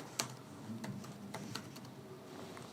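Scattered clicks from a computer keyboard as a name is typed into a Word document, a handful of light, close taps spaced unevenly over a quiet background.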